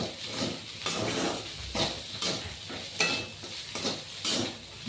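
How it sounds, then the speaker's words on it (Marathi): Poha with sugar being stirred in a pan, a soft scraping sizzle with repeated spoon strokes against the metal every second or so, moderately close and steady. "आपल्या आवडीनुसार साखर टाकल्यानंतर मस्त हलवून घ्यायचे."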